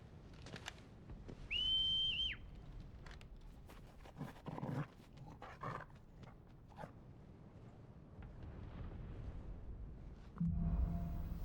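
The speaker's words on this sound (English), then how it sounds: "Like that was a very loud whistle." A loud, sustained high whistle, about a second long, cuts through the Final Fantasy XVI game sound, with footsteps, rustling and soft ambient noise before and after.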